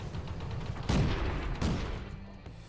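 Gunfire from players at a BIMA commemorative event, single shots and automatic bursts popping at a moderate distance, with two sharper reports standing out over a steady rumble of continuous firing.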